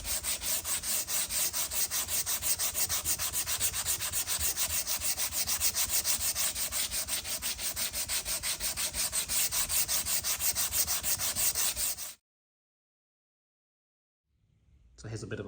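A sanding block rubbing by hand across a Fender Jazz Bass wood body, fast steady back-and-forth strokes, close and loud for about twelve seconds, then silence before the strokes resume.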